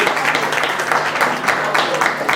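Audience clapping at a scholarship award ceremony in the Sundarbans, a short burst of dense, lively applause from many people, loud and continuous throughout, with faint voices mixed in.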